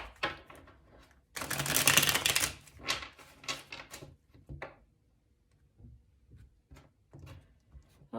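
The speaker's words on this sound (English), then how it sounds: "Okay, we'll do one last shuffle." Tarot cards riffled in a shuffle: a dense papery burst of rapid card flicks, then scattered softer taps and slides as the deck is squared, close and quiet with no talk.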